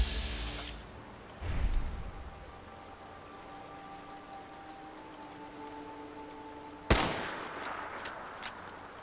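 Two .308 bolt action pistol shots in Fallout 4 on the Boston Harbor shore, one muffled report early and one loud sharp crack later, set against a steady rain-like hiss of game ambience.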